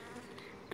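Elgon honey bees on small cells hum steadily at a hive, a faint, continuous close buzz with a slight swell near the end.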